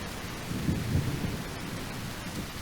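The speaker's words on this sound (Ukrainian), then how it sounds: "ще й дощ." Rain and rumbling thunder from the video game The Isle Evrima, a low continuous storm wash with a soft roll of thunder swelling near the middle, steady and fairly faint with no talk.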